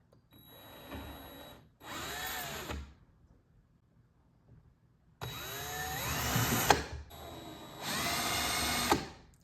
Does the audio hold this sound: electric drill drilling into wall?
yes